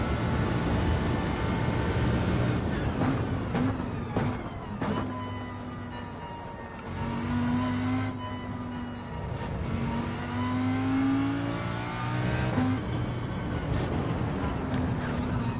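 A Lamborghini in Gran Turismo 7 during an online daily race, its engine revving up through the gears in rising whines with brief shift dips, loud and steady throughout, no talking.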